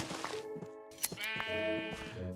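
A sheep in Minecraft bleats several times in quick succession, clear and close, with no talking over it.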